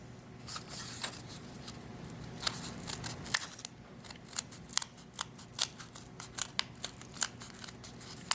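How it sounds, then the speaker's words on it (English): Scissors trim cardboard up close, giving a series of sharp, crisp snips with an uneven rhythm against a quiet background, growing more regular toward the end. "I'm going to take my scissors and I'm going to trim them a little bit"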